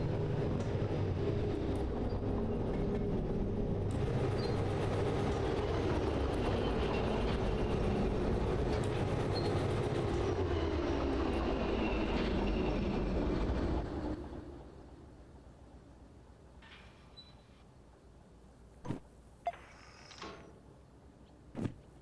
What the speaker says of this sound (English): now the train is actually rolling in on its own